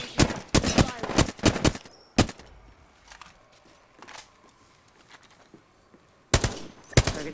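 Bursts of video game gunfire from an online battle royale match, rapid loud volleys in the opening two seconds, a lone shot, then a quieter stretch before two more sharp bursts near the end.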